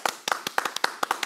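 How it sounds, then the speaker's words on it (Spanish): Audience applause for a newly introduced guest, short bursts of hand clapping in a quick, uneven rhythm, fairly close and clear with no talking over it. "Pido un fuerte aplauso para él."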